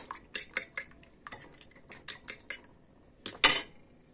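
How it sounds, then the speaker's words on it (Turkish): A fork whisking two eggs in a bowl for a smoky aubergine dish, with quick bursts of rhythmic clinking taps against the sides, pausing between runs and ending in a louder scrape. "2 yumurtamızı güzelce çatal yardımıyla çırpıyoruz."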